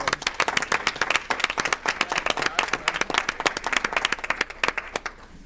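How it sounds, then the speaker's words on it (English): Audience members clap at a public school board meeting, producing crisp, distinct handclaps in a lively, fairly even rhythm. The clapping continues for about five seconds, then quickly dies away. "I think that deserves a round of applause."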